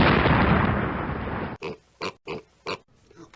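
Cartoon pig oinking as a grandpa character turns into a pig: four short, loud, evenly spaced grunting oinks right after a burst of noisy transformation sound.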